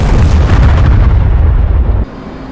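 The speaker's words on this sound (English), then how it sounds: "you can launch the missile by pulling the trigger on the stick or by pressing the spacebar" An AIM-120 AMRAAM missile launches from an F/A-18C in the DCS flight simulator. A loud, dense rocket roar holds steady for about two seconds, then cuts sharply to a much quieter background rumble.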